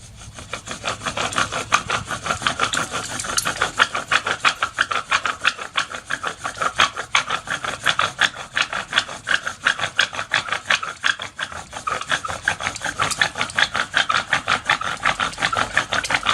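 A wooden bow drill spindle grinds against a wooden fireboard in a backyard bushcraft fire attempt, producing a loud, continuous rasping friction with a rapid back-and-forth stroke rhythm that runs steadily throughout.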